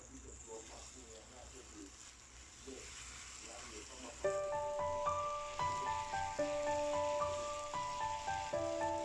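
Spicy Thai stir-fried fish balls sizzling in a pan, a steady soft crackle running throughout, joined midway by bright sustained music tones over the frying.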